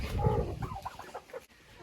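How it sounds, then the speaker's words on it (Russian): A broody hen that had been sitting on her nest gives a few short, throaty clucks close by, brief and uneven, with the sound dropping away near the end. "Это курочка, которая квахтала, сидела в гнезде."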